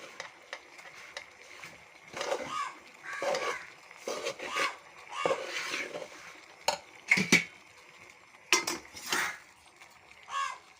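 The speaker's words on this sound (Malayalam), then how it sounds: "കുറച്ചായിട്ട് വേണം വെള്ളം ചേർത്ത് ഇളക്കാനായിട്ട്." Rice flour dough being stirred with boiling water in a vessel, heard as repeated scraping and stirring bursts with clinks of a utensil against the pot, separated by short pauses.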